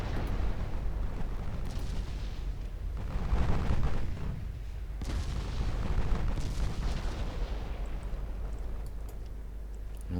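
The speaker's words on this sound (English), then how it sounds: "Now my cruisers are taking fire from 10-inch guns." Heavy 10-inch naval gunfire pounds cruisers in a 1959-era Ultimate Admiral Dreadnoughts battle, a dense continuous roar of booms and impacts with louder bursts around the middle, no voices.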